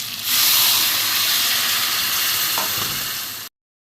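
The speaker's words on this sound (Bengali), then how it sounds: "আমি অল্প অল্প করে ডাল সিদ্ধ দিয়ে দেবো" Boiled mung dal poured into a hot, sizzling katla fish head masala in a pan, giving a loud, continuous hiss and bubbling sizzle that stops abruptly.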